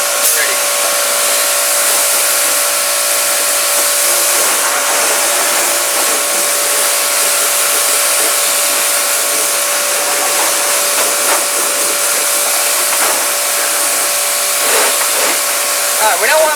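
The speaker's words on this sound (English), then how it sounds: "y'all told me to talk about the Shilandi motorcycle air dryer" A Shilandi motorcycle air dryer blows a steady, loud, hissing stream of air across an engine bay being cleaned, continuous for the whole stretch with no talk.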